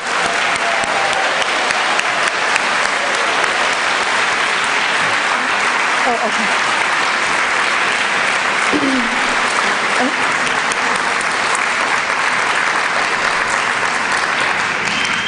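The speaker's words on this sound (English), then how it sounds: "Let's give one more round of applause for all of the outstanding graduates and their faculty mentors." Sustained, steady applause from a graduation ceremony audience at Western Washington University honoring outstanding graduates and faculty mentors, loud and dense throughout with faint voices mixed into the clapping.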